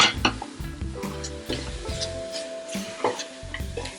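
Coconut being stirred into a kube cake mixture, a close scraping and rubbing of a spoon through thick batter with soft repeated strokes and occasional light clinks against the bowl, over a faint tonal background.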